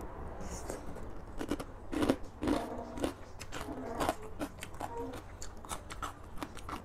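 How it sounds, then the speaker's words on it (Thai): Crispy Thai pork cracklings crunch between the teeth during a khanom jeen papaya salad meal, a run of close, quiet, irregular crackles and snaps with a faint background hum and no talking. "เคี้ยวยากนะแคบหมูก็เคี้ยวยาก"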